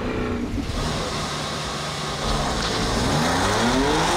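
A BMW M2 Competition launching from a standing start on asphalt, loud engine roar climbing through the revs with tire squeal, steady and close.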